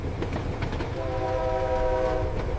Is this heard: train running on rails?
yes